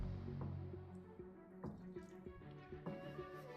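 Water poured into a paint water cup, a faint, soft trickle and a few drips against a steady low hum, heard close up.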